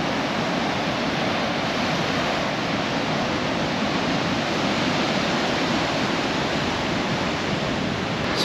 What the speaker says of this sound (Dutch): Het is flink aan het regenen.